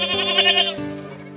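Black goats raised on a farm bleat loudly and close by, with one drawn-out, wavering call followed by a lower bleat.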